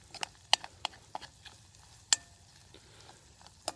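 Potatoes frying in a Czech mess kit over a campfire in the woods, heard as a quiet, steady sizzle punctuated by scattered sharp crackles and pops, close by, with no talking.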